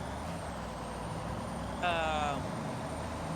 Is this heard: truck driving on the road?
yes